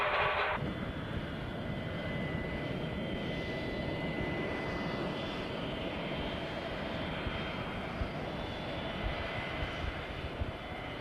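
Jetliner engines give a steady, loud, droning roar with a faint high whine running through it, continuous from start to end, with a brief brighter burst at the very beginning and no voices.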